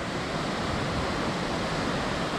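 A waterfall tumbles beside basalt columns on the flanks of the Cantal volcano, a steady, loud, broadband rushing roar of falling water with no voices.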